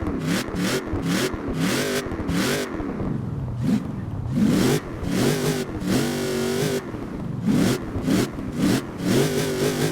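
A supercharged 7.2-liter race V8 swapped into a Chevrolet ZR2 in Forza Horizon 4 revs hard again and again, loud and close, rising and falling through sharp throttle blips with no talking over it.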